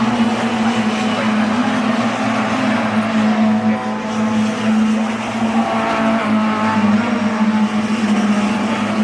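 Mini Miglia race cars at Snetterton circuit roar continuously in a tight pack, a loud sustained engine drone with steady pitch and some tyre noise, no pauses throughout.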